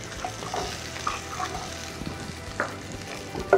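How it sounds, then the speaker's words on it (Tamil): Garlic and onion fry steadily in hot oil for a South Indian carrot lemon kulambu, with fenugreek and curry leaves in the pan. A constant close sizzle is broken by occasional stirring scrapes and clinks. "வெங்காயம் 1 நிமிஷம் இல்லைனா 2 நிமிஷம் நல்லா வதங்கணும்"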